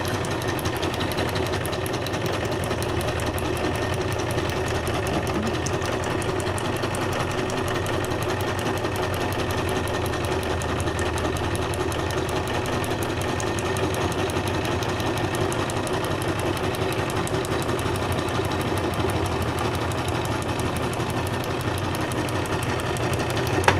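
A sewing machine runs a back stitch in a steady, continuous mechanical whir with rapid needle chatter, close and loud for the whole stretch with no talking.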